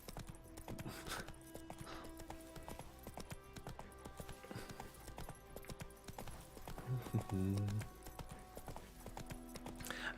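Roach the horse gallops in The Witcher 3 video game, with a quick, rhythmic run of hoofbeats over soft game music, ending in a short louder burst.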